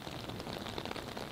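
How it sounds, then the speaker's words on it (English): Rain falls steadily at an outdoor zoo, a close, even hiss of drops pattering on surfaces with no break and no voices. "Guess he doesn't mind the rain."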